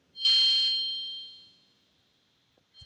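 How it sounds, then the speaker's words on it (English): A single bell sound effect from the video game Theresia: Dear Emile, one bright ringing ding that strikes loudly and then decays smoothly over about a second, followed by a brief low thump. "I think that bell sound effect is really annoying, though."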